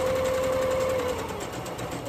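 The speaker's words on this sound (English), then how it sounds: "And then I'm going to sew straight down beside the chalk mark." A sewing machine stitches a straight seam through fleece for a scarf, giving a steady, close mechanical whir with a faint tonal hum that eases slightly partway through.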